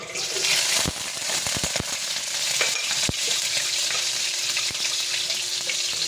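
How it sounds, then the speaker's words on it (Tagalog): Garlic sautéing in a hot pan for pork adobo gives a steady, close frying hiss, broken by a few sharp clicks and stirring knocks, with no voices over it. "Sige natin gagawin ay magigisa ng ating bawang"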